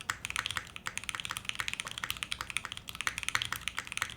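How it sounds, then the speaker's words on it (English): Rapid, continuous clacking of mechanical keyboard keys with a GMK spacebar, a dense run of crisp taps close up with no voices. "I'm just curious to see what a GMK spacebar sounds like as well."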